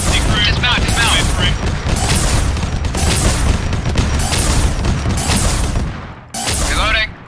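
Dense gunfire and booming weapon blasts in Arma 3 with a Warhammer modded setting, loud and near, rolling almost continuously with a short break near the end while voices shout over the din.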